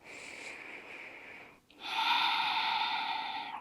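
Deep, steady breathing in a yoga class, heard close and alone with no talk: one long breath with a faint hiss that eases and stops briefly, then a fuller, louder breath that carries on to the end.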